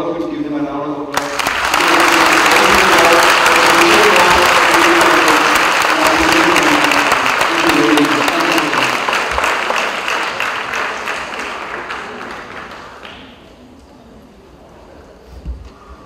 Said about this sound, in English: I want all of you to give them a round of applause.